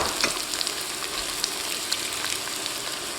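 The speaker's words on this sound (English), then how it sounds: "The first thing I need to do is start cooking some of these vegetables" Onions, red peppers and zucchini fry in olive oil in a pot, making a dense, continuous close sizzle with faint spattering pops and light stirring.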